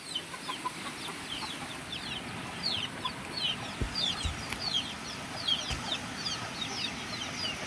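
Chickens and chicks cluck and peep in an enclosure on a rainy morning, with many short, overlapping calls over a steady background of rain, faint and at a distance.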